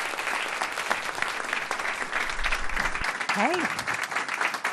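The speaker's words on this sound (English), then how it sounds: "give a big hand of applause" An audience at a technology talk gives sustained applause, a dense wash of clapping that fills the room throughout, with a brief spoken greeting near the end.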